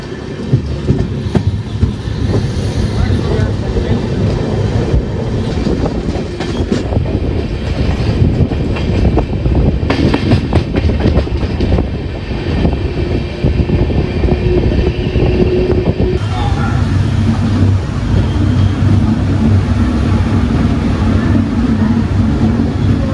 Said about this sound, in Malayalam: പോത്തന്നൂരിൽ നിന്ന് നമ്മുടെ വണ്ടി ഡിപ്പാർട്ടായി